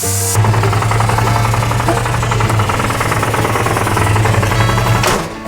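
A spark-plug-port tire pump driven by a V8 engine's compression hammers away with a fast, rapid knocking rhythm and a steady low hum, starting and stopping abruptly, loud and close.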